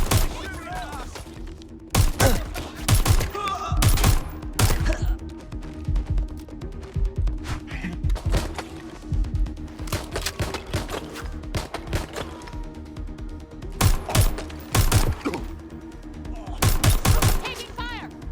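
Rapid bursts of automatic gunfire and heavy shots in Watch Dogs: Legion, coming in repeated loud volleys over a steady game background with voices talking now and then.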